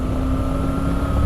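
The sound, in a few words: Triumph Tiger 900 GT Pro motorcycle engine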